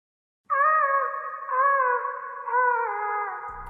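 Looped guitar phrase with an ambience plugin adding reverb and echo, sustained layered tones swelling at roughly one-second intervals, sounding full and spacious, alone with no talk.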